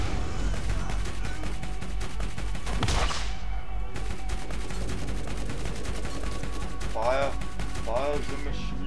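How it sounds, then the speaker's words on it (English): Machine gun fire in the video game Borderlands, a dense steady rattle of rapid shots under game music and effects, with a voice talking briefly near the end. "Fire the machine gun."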